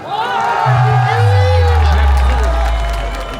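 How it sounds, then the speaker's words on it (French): A large crowd cheers and whoops loudly and continuously, with a low droning tone underneath. "Faites du bruit pour Didi s'il vous plaît"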